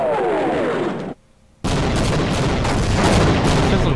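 Air strike explosions in Half-Life: a loud, dense booming blast with a falling whistle, then a sudden near-silent gap before another sustained roaring burst of explosion noise.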